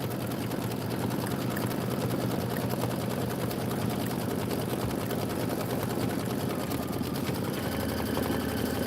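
A Kimberbell embroidery machine stitches out a quilt tile for a tiling scene, giving a steady, continuous mechanical whir with a fast rhythmic needle chatter at close range, unbroken throughout.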